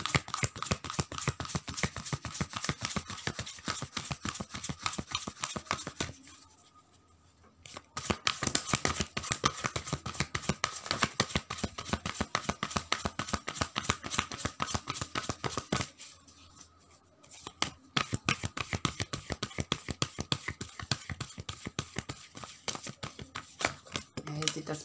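Tarot cards shuffled for a reading in a steady run of dense, papery riffles and flicks that carry on for most of the stretch, pausing briefly twice, close and fairly loud with no talking.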